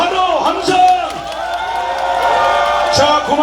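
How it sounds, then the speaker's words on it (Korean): A crowd at an outdoor campaign rally in a traditional market cheers and shouts loudly, with voices whooping and hollering together in a dense, continuous roar that swells at moments. "자, 환호, 함성!"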